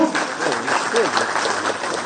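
Steady applause from a crowd at a workshop event, continuous clapping throughout with a faint voice mixed in.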